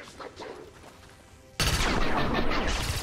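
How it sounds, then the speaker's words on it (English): Pistol fire in XCOM 2 hits partway through, a sudden loud burst after a quieter lead-in, then the blast and its echo ring on steadily to the end. "and fire our pistol"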